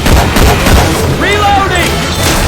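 Gunfire from Syphon Filter weapon sound effects swapped into the co-op shooter Left 4 Dead 2, a dense burst of rapid shots under continuous chaotic game noise and voices.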